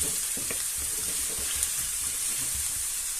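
Chopped onion and garlic sizzling in a hot pan for a clam, white bean and potato stew, a steady close crackle and hiss with a few small pops and stirs, no voices.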